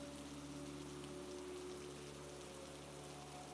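Steady rain falls in a dense, even hiss of droplets striking surfaces. It stays constant and fairly close throughout, with a faint low hum running beneath it.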